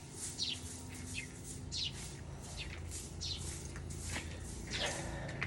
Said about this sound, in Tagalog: makakarinig ka ng mga ganyan, mga ibon